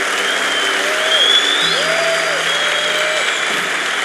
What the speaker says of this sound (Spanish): Dele más fuerte ese aplauso a Jesús.